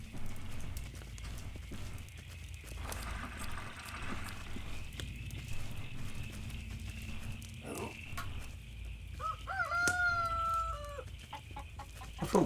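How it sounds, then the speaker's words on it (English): A rooster crows in the video game Force of Nature, a rising, wavering call near the end that stands out over steady clucking, hoofbeat-like clip-clop and constant ambient game noise. "I thought cocks were only supposed to crow at 6 o'clock in the morning."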